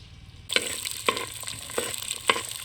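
Onions sautéing in a pan over a village cooking fire: a loud, close hiss of frying with several sharp scraping stirs of the spatula at regular intervals.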